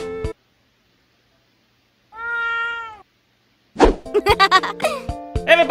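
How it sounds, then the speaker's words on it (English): A cartoon cat in an SMG4 animation gives a clear drawn-out meow after a short silence, followed by a burst of bright, overlapping meows and squeaky chatter. "Here's your cat, Loaf."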